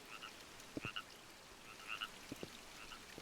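Several frogs croak in the video game Maquette, short paired calls recurring in brief clusters against a soft ambient bed, moderately distant and alone without any voices.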